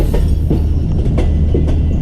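Tezgam passenger train braking as it arrives at Khanewal station, with a close, continuous heavy rumble and regular clickety-clack of wheels over rail joints roughly every half second.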